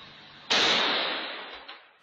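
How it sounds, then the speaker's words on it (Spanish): Explosion inside a shopping mall in Concepción, captured by a security camera at a fast-food outlet: one sudden loud burst that fades out over about a second and a half, with no speech. "En menos de un minuto, tres explosiones causaron temor y pánico en un mall en Concepción."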